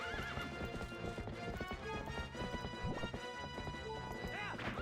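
Horse hooves clatter in a steady galloping clip-clop with repeated neighs and whinnies in The Legend of Zelda: Twilight Princess, fairly quiet and continuous throughout.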